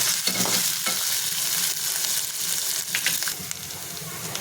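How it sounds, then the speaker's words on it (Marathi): Green chilies, cumin, garlic and onion frying in hot oil, a dense continuous sizzle with occasional stirring scrapes and taps, close up and steady throughout, with no voices. "मी तेलामध्ये टाकून परतून घेते आणि कांदा एक छोटा कांदा घेतलेला आहे तो सुद्धा मी याच्यात छान परतून घेते"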